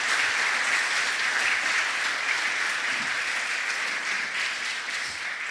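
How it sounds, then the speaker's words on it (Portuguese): A church congregation applauds during a sermon, with sustained, even clapping from many hands heard at a moderate distance in a large room, continuous for several seconds and free of talk. "Você pode aplaudir Jesus por isso"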